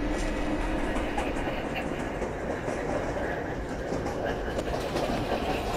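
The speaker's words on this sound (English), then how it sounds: "I think I take the Southern Local train." A Southern Local subway train runs along the line in an automated-lines game, giving a steady, loud rumble with rhythmic clacking and continuous rail noise throughout.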